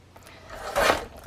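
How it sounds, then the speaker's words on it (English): Paper trimmer slicing through two sheets of paper at once, a single short rasping cut swelling near the end, faint and close with no one speaking. "I'm going to get my paper trimmer out to get a cleaner cut."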